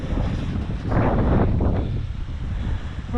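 Strong wind buffets the microphone high on the Old Man of Coniston, a steady gusty roar that swells briefly in the middle, with no voices.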